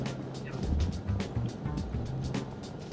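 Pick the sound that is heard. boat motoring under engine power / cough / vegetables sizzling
boat motoring under engine power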